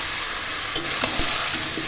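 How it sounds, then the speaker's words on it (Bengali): Goat meat frying in a pan with spices, steady sizzling under a few scraping stirs of a spoon against the pan, close and alone without talk. "মশলা দিয়ে এখন একটু নাড়াচাড়া করছি।"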